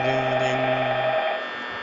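Telephone ringing inside the Five Nights at Freddy's video game, a steady electronic ring with layered tonal harmonics holding for about a second before cutting out, leaving quiet room tone.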